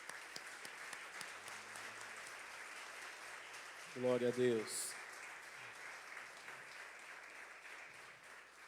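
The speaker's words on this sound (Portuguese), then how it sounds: "Vamos aplaudir o Senhor pela Sua palavra." A church congregation at a communion service applauds faintly in the background, a soft, even patter of many hands, while a single voice briefly calls out partway through.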